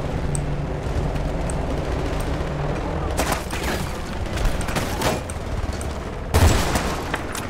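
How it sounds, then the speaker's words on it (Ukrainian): Rapid bursts of helicopter gunfire from Battlefield 2 game combat, volleys of automatic shots crackling in loud clusters over a continuous rumble, with a heavier burst near the end. "Це, блін, вертушка так стріляє?"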